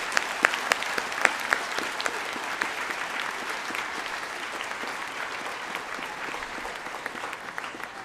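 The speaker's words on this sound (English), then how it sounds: "Can we give a round of applause to Mr. Fulton?" Steady applause from an audience honoring a history teacher at a school salute-to-veterans event, fairly close and sustained, with a few sharp individual claps standing out early before settling into an even wash of clapping.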